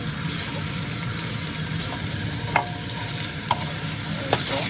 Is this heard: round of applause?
no